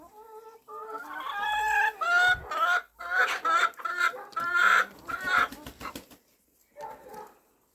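Hens cluck and call close by in a farmyard, a busy run of repeated squawks and clucks with brief gaps, a little human sound faint underneath.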